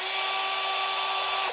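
A Parkside PWBSA 12 A1 cordless angle drill running steadily with a high, even motor whine, close and loud, holding a constant pitch before winding down at the very end.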